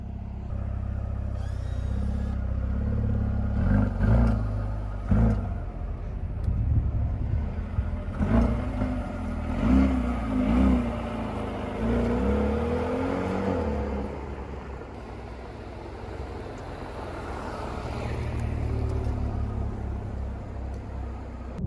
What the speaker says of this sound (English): Now we will be heading out and start the drive.